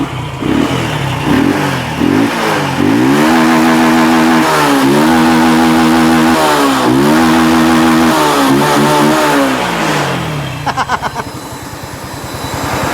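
A Honda Wave 110i motorcycle engine revving hard through repeated rising and falling throttle blips, loud and close, then settling back toward a rough idle.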